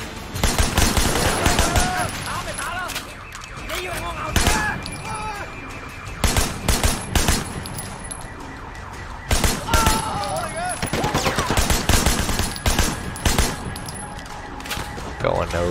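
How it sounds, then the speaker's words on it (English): Repeated bursts of loud gunfire in Sleeping Dogs: Definitive Edition, rapid shots in clusters with short gaps, some shots punching through destructible cover, close and sharp. "I can shoot through it."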